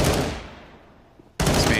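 A single loud gunshot in a Counter-Strike: Global Offensive match, its echo fading over about a second before a second sharp shot cuts in abruptly.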